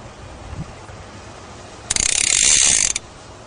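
A fly reel on a fly rod gives a loud, close, rapid ratcheting buzz for about a second as line is stripped out, after a quiet stretch with a faint handling knock.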